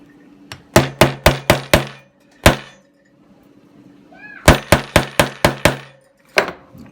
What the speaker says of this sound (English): you're just going to hammer it